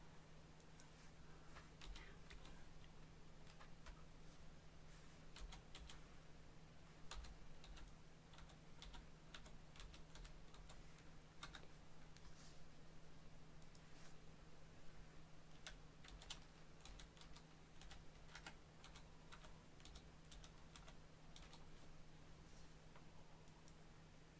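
Steady computer keyboard typing runs throughout, a dense patter of quiet keystrokes close by over a constant low electrical hum, with no voices.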